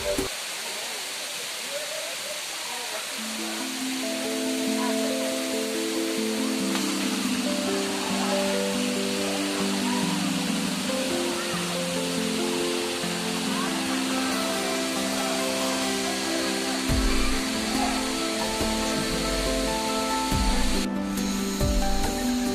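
A waterfall near Chennai, India, roars with a continuous hiss of spray. Tonal hums and murmuring voices sit underneath it throughout.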